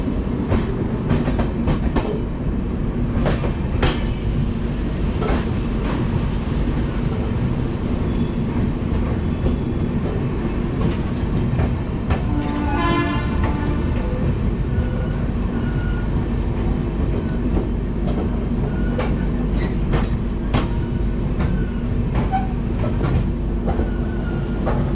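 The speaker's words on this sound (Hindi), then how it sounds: "सो फाइनली 15 मिनट के बाद हमारी ट्रेन डिपार्ट कर चुकी है गोंडा जंक्शन से।" Saharsa clone Humsafar train pulling out of Gonda Junction, with a steady loud rumble of wheels on rails and intermittent clickety-clack of joints, a brief squeal near the middle, continuous throughout.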